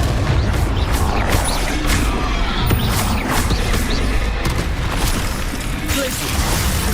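Expelliarmus and Confringo spell blasts in Hogwarts Legacy, a dense, loud stream of booming impacts and crackling bursts overlapping one another with no pause.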